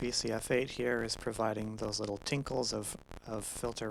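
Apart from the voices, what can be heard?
No distinct noise like a dog, phone or traffic.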